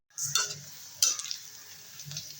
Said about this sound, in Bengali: এবারে পেঁয়াজটাকে ভালো করে একটু ভেজে নেব